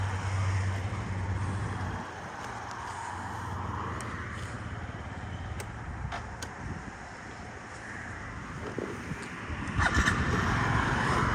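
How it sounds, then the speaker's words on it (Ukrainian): A Yamaha Jog SA56 fuel-injected scooter engine runs steadily throughout, a continuous low hum with a faint rattle, close by and fairly loud, with no talking. "чистенько працює двигунчик, взагалі без ніяких питань"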